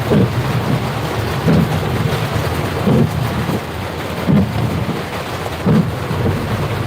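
Heavy rain pours steadily on a surface in a thunderstorm, a loud dense hiss with low rumbling thunder swelling at regular intervals beneath it.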